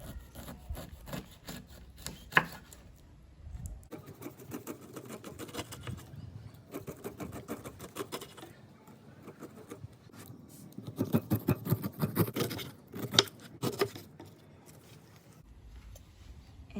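A knife peeling the skin off a pineapple, soft close scraping and rubbing strokes in irregular bursts, quiet with a few sharper cuts.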